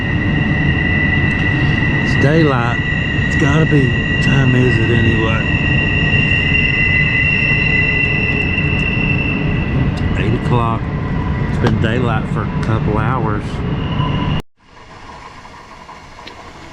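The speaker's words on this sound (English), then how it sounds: "It sounds like my alarm train is going off." A train passes near a riverbank campsite, a loud continuous rumble with steady tonal whine that fills the scene while someone talks over it, then cuts off sharply near the end.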